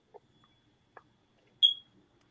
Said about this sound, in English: Somebody's smoke detector need battery change